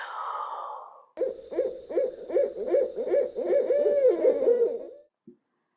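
An owl hoots from far off in the woods in a steady run of about eight rhythmic, echoing hoots with no voices over them. A short lone note follows after a pause.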